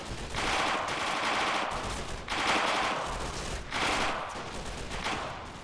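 Soviet machine guns fire in a Finnish winter town battle in a video game, coming as several sustained bursts of rapid automatic fire at a moderate distance.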